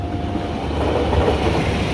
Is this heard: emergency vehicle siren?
no